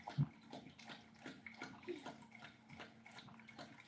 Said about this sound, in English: These damn dogs over here drinking a gallon of water.